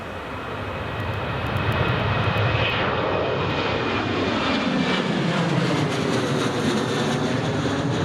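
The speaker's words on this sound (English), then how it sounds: "There goes the Jet 2." A Jet2 passenger jet roars past at an airport, a loud, steady broadband engine rush that holds for the whole stretch with a slowly shifting whine.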